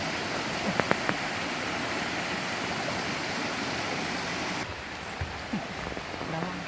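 Moss waterfall in a mountain valley, its steady broadband rush of falling water loud and continuous throughout, with a few faint clicks and brief sounds near the end.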